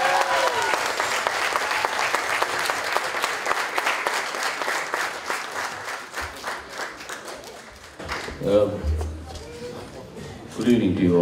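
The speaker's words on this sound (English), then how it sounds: "Can we hear a huge round of applause for our one and only Ashwin Sir?" A large audience breaks into sustained applause at an evening event honouring a guest, dense clapping that gradually thins and fades, with voices and cheers rising near the end.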